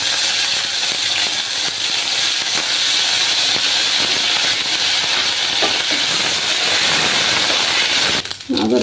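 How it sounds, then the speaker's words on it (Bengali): Ginger garlic paste sizzles steadily in hot oil in a pan for begun bharta, a continuous loud frying hiss that cuts off abruptly near the end. "আদা রসুনের কাঁচা গন্ধটা না যাওয়া অবধি আমি ভেজে নেব।"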